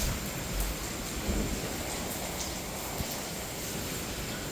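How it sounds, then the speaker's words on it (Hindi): Steady heavy rain pours during a storm at a family home after a power cut, a dense continuous hiss with a low thunder rumble near the start, close and loud with no voices. "इधर की बारिश है आज।"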